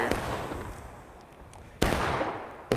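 Gunfire from a Civil War multiplayer battle game: a distant crackle of musket shots, then a sharper nearby report and another at the end, under a low background rumble.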